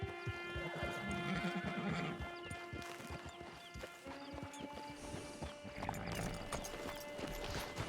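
Steady clip-clop of horse hooves at a trot in Red Dead Redemption 2, with a horse whinnying partway through, close and fairly loud over a faint musical backdrop.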